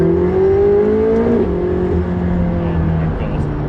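A McLaren 675LT with the Club Sport pack runs hard, its engine droning loudly with a sharp gearshift crack near the middle as revs fall and rise again, and a voice talks over it.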